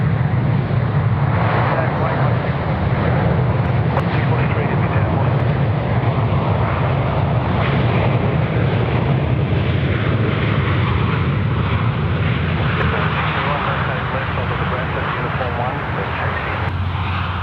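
A fixed-wing aircraft lines up and takes off from runway 34 at Sydney Airport, its engine roar broad and steady throughout, with radio talk faintly audible beneath.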